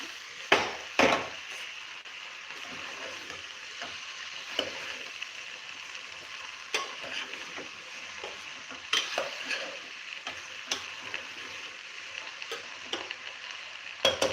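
Pav bhaji stirred in a pressure cooker: a ladle scrapes and knocks against the metal in irregular strokes over a steady soft sizzle of frying.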